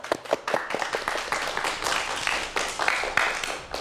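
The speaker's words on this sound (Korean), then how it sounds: "박수 다시 한번 부탁드릴게요" Applause from an audience at a televised science lecture on lifespan and aging: dense, rapid clapping that swells in uneven bursts and fills the room for a few seconds, with no speech over it.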